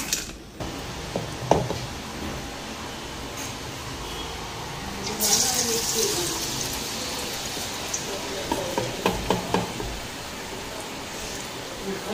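Fritters sizzling in hot oil in a home kitchen pan, a steady, close hiss like rain with brief pops, while people talk intermittently over it.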